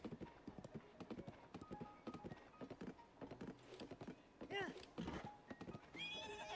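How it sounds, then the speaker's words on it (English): A horse gallops and neighs in Zelda: Tears of the Kingdom, with rapid rhythmic hoofbeats running throughout and two whinnies near the end, all fairly quiet. "Horses are pretty speedy."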